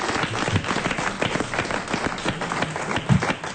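A studio audience applauds at a French TV talk show, a dense steady wash of clapping at moderate level throughout.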